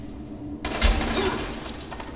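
Gunfire in the zombie video game Dying Light: a sudden loud burst of shots erupts, with a heavy low thud just after it, then dense rattling noise that fills the rest of the moment.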